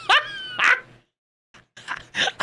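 A dog barks close by in sharp bursts: two quick yelping barks, a brief pause, then a few more barks near the end.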